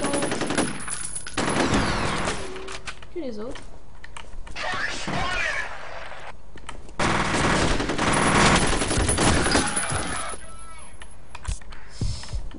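Submachine gun fire in the shooter game F.E.A.R., rapid loud bursts of automatic shots with clattering and keyboard tapping, interrupted by short pauses and with someone speaking over it.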